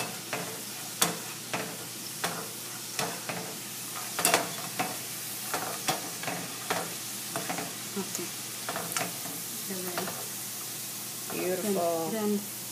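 Struffoli dough balls fry in oil for the Neapolitan honey-ball dessert, a crackling sizzle with scattered sharp pops and spatters while people talk nearby, with a louder bubbling burst near the end.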